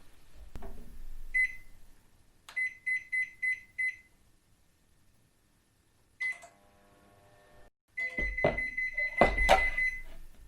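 An oven control panel being set to bake potatoes at 200 degrees gives a few short electronic beeps, then a quick run of five even beeps, and later a burst of clattering and clunking with more beeps; no one speaks.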